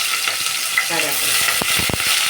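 Onions and curry leaves with green chillies frying in hot oil for a tomato rice, a steady loud sizzle with a few stirring scrapes and clatters near the end.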